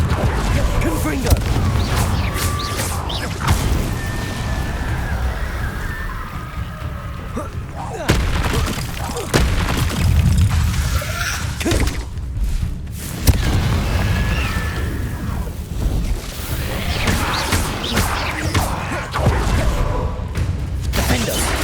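Fire spell explosions burst in the Hogwarts Legacy video game, a series of booming blasts and crackling impacts spread across the stretch, mixed with game effects and a voice casting spells.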